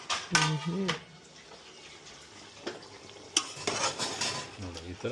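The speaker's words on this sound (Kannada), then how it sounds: "ತಿರುಗಿಸ್ತಾ ಇರಬೇಕು. ಏನು ತಳ ಅಂಟಬಾರ್ದು, ಅದಕ್ಕೆ ತಿರುಗಿಸ್ತಾ ಇರಬೇಕು." A spoon scrapes and knocks around a pot of biryani in a few separate bursts over quiet background, with a brief spoken word or two.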